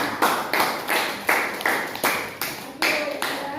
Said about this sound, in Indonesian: Tepuk tangan dulu untuk Dinda.